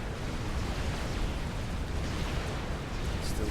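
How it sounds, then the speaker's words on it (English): Heavy turret fire from Cerberus point defenses pounds away in a Supreme Commander battle, a dense continuous roar of blasts and explosions that stays loud and rumbling throughout with no pause. "Still taking a lot of Cerberus fire"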